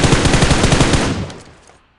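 Rapid automatic gunfire from a video game shooter, a dense burst of fast repeated shots that cuts off after about a second and fades out, loud and alone.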